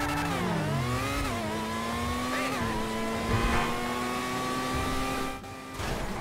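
A high-revving F1 BR8 open-wheel race car engine in GTA 5 Online whines loudly and continuously, pitch climbing and dropping through gear changes, with no voices over it.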